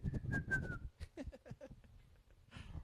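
A person whistles while brushing their teeth, holding a short, steady, sliding tone close by, followed by muffled mouth and brushing sounds.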